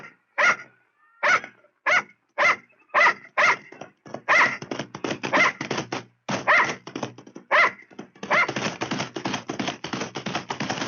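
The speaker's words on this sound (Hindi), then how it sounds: "ये मुझ पर भौंक रहा है" A dog barks repeatedly in short, sharp bursts, loud and close, with the barks growing faster and more continuous toward the end, at a wedding day in a Hindi film scene.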